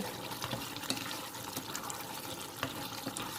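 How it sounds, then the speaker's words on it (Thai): Green curry broth boils hard in a pot, giving a steady bubbling, sloshing wash with a few louder pops, close by and without talk. "โอ้ยเดือดใหญ่แล้วเพื่อนๆเดือดใหญ่เลย"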